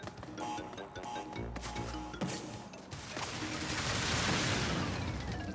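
Wooden TNT crates in Crash Bandicoot 4 blow up in a chain reaction, a dense run of crashing blasts and smashing thuds over busy game music that swells into a loud, sustained roar near the end.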